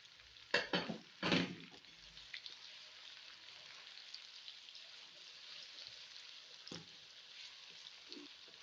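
Whole spices including cinnamon, black peppercorns, black cardamom, bay leaf and cumin frying in a pot for chana pulao, a soft even sizzle under a couple of clinking stirs at the start, quiet and close.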